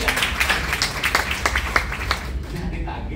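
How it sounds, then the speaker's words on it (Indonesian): A church congregation breaks into applause, a dense wash of claps with voices mixed in that keeps going before thinning toward the end. "tepuk tangan bagi Tuhan"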